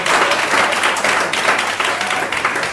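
Loud, close audience applause at a music industry vocal coaching symposium, thick continuous clapping from the crowd filling the whole stretch.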